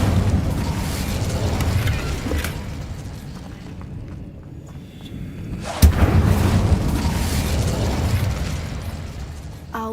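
Incendio fire spell cast in the video game Hogwarts Legacy, a booming, rushing burst that fades into a quieter lull, then a sharp crack near the middle followed by another rolling roar.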